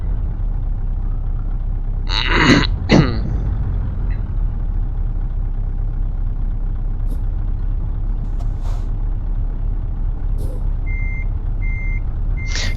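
A Scania heavy-haulage truck in Euro Truck Simulator 2 reverses with a steady low engine rumble, two sharp air-brake hisses early on, and repeated reversing beeps pulsing near the end.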